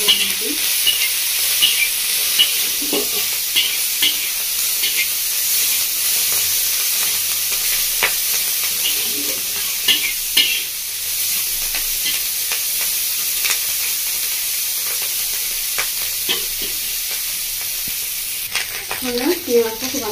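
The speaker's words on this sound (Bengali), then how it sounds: "চিংড়ি মাছটা খুব ভালো করে ভাজা হয়ে গেছে, দেখি ভালো করে ভেজে নিচ্ছি।" Prawns fry in an iron kadai with turmeric and salt, a steady hiss of hot oil broken by repeated scrapes and stirs of a spatula, with brief bursts of spitting and faint talk in the background.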